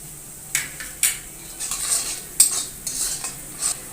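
Onions and garlic paste are stirred in a frying pan, with quiet scattered scrapes and taps of a spoon against the metal over a faint background sizzle. No one speaks.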